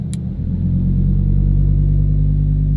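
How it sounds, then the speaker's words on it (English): A Lamborghini Huracan Evo with its exhaust valves open revs up in a city street, a loud close engine roar swelling and then holding steady as a deep sustained drone, with no one talking. "the valves open up in the exhaust. Like literally this car sounds insane. Let's give it a couple revs."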